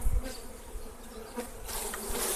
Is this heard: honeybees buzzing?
yes